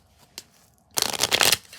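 A deck of tarot cards is split and shuffled: one faint tap, then a dense half-second riffle of flicking cards, close and alone.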